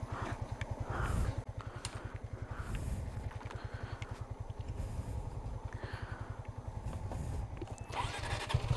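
A motorcycle on a ride along a forest road turns over and settles into a steady, rapid low-pitched engine thrum that stays loud throughout, with brief faint voices in the background.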